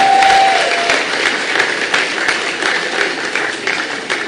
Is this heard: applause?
yes